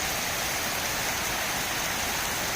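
Steady rain falls around a walker sheltering beneath a big old pine tree after a morning shower, a dense, even hiss that continues without pause or voices.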